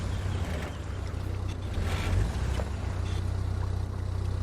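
A truck in the off-road game Expeditions: A MudRunner Game crawls downhill in low gear, its engine a steady low rumble and drone running continuously throughout, with no talk.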